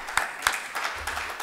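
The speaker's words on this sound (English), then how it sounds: "and Patrick and the great team from Handula, let's give him a round of applause as well" A room audience claps in a moderate, sustained round of applause, with a few louder individual claps standing out near the start.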